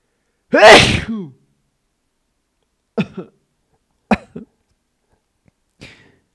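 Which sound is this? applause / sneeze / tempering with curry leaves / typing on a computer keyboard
sneeze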